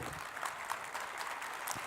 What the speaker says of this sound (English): Applause for Mr. Bittel.